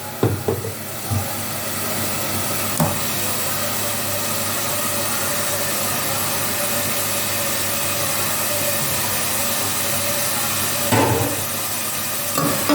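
Chicken goes into a pot of onions and whole spices and gets stirred, giving a steady, close sizzle with a few louder scraping clatters near the start and end, and no voices.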